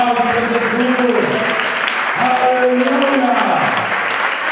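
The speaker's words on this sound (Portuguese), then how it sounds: "Você recebeu, então por aplauso para Jesus." A church congregation at a Brazilian Baptist service applauds, a dense sustained clapping of many hands, with a voice speaking and calling out over it.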